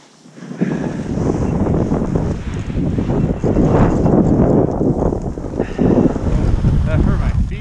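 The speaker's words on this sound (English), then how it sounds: "Well, that was windy." Strong wind roaring and buffeting the microphone at the Liberty Bowl on Big Sky, loud and continuous with gusty surges throughout.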